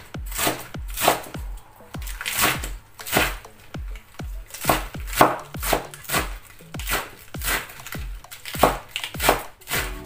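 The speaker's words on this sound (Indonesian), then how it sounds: "Potong-potong ini cucumber." Knife repeatedly chopping cucumber for a simple salad on a cutting board, close and crisp, with steady, evenly spaced strikes, roughly two per second, each a sharp crunchy thud, and no talking.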